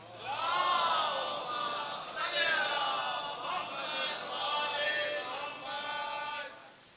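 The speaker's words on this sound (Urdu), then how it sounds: "بار دیگر نعرے صلوات." A crowd at a Shia majlis for Imam Ali's martyrdom chanting salawat in unison: several swelling, sustained vocal waves from many voices in a reverberant hall, loud and fading out at the end.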